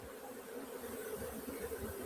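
A large swarm of honeybees flies around a beehive, making a continuous low droning buzz that stays even and fairly close, with no speech.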